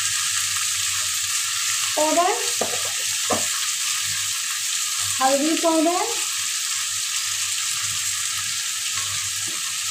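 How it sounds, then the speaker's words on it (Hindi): Chana dal is being tempered, with coriander and turmeric powder going into hot oil. A steady bright sizzle runs throughout while someone speaks briefly over it in two short bursts. "अब ये दाल मैं छौंकने जा रही हूँ"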